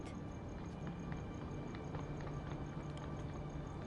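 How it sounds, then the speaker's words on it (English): Footsteps in a Vampire: The Masquerade game come out from behind a line of trees: a steady run of quick, evenly paced clopping steps at moderate distance over a dense background hiss. "you hear footsteps coming from behind a line of trees"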